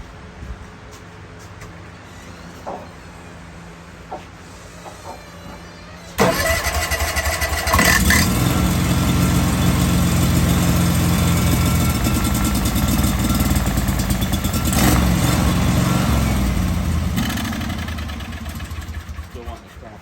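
A burned-out DR field and brush mower engine, primed with carb starter fluid and short on fuel, is cranked quietly at first, then catches and roars to a loud rough run that sputters and fades slightly near the end.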